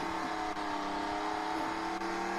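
A car in a video game drives with a steady, continuous engine hum at even loudness, with no voices.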